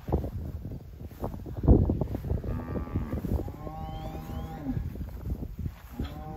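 Red Angus cows moo across open, big cattle country, several drawn-out lowing calls at moderate distance over steady wind noise, with no one talking.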